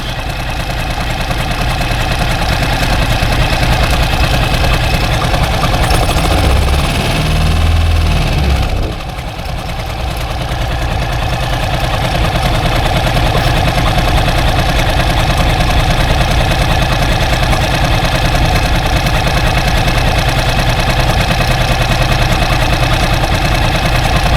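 A 4 hp Mercury outboard boat motor with a freshly cleaned carburettor idles steadily nearby, a loud, even low-pitched putter that dips briefly around nine seconds and then carries on unchanged.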